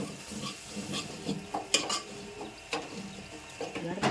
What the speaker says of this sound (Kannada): ಒಂದು ಸಾರಿ ಎಲ್ಲ ಮಿಕ್ಸ್ ಮಾಡ್ಕೋರಿ